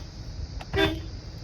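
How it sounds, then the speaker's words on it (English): A car horn gives a single short honk outdoors in a remote area, standing out briefly over steady background noise. "honk a little bit."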